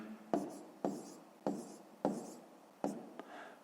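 Pen writing numbers by hand during a decimal-fraction math exercise, five short distinct scratching strokes spaced about half a second apart, close and quiet, no speech.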